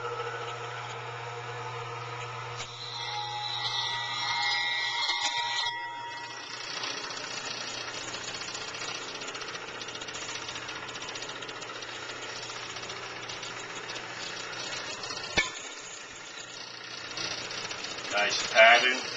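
A sharpening machine grinds hair clipper blades with a steady motor hum and a low drone. Rattles and scraping contacts are mixed in, and a sharp knock sounds near the end.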